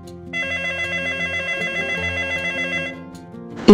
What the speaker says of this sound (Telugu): సెల్ ఫోన్ రింగ్ అవుతుంది